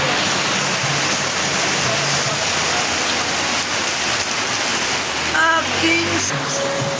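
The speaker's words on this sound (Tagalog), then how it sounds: "grabe sobrang lakas talaga ng ulan" Heavy monsoon rain driven by Typhoon Luis pours down in a loud, continuous hiss close by, with a person talking briefly near the end.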